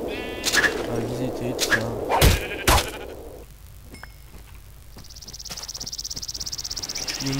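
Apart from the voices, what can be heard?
sheep bleating in the video game Minecraft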